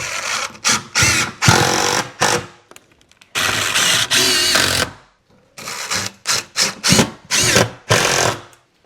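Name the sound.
power drill driving screws into shelf back wall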